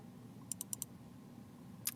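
Two quick pairs of sharp mouse clicks, double-clicks on a computer mouse while changing gradient color stops in a drawing program, followed by one more click near the end, faint over a quiet room hum.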